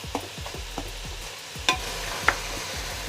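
Tomatoes being mashed and stirred in a frying pan, a steady series of soft scraping and stirring strokes over a low continuous sizzle, with a couple of sharper clinks of the utensil against the pan.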